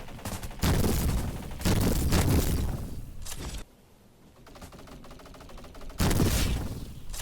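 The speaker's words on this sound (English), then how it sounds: "M82, the best sniper gun, the best sniper rifle here" M82 sniper rifle fire in a video game: heavy booming shots with long rumbling tails, three or four blasts spaced a couple of seconds apart, loud and close, with a quieter mechanical stretch between them.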